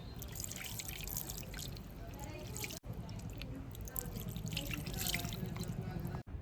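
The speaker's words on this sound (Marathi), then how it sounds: "आपण आता पनीर धुवून घ्यायचे" Water running from a tap while paneer is washed for a paneer tikka masala, a steady close splashing trickle with small drips throughout.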